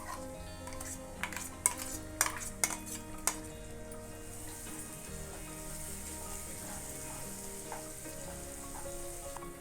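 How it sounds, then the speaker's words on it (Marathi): Ground masala sizzles and fries steadily in hot oil in a pan for Bhogi mixed vegetable bhaji, with a few sharp clinks of a spoon against the pan early on, then an even, continuous hiss. "हा मसाला तेलामध्ये चांगला परतून घ्यायचा आहे"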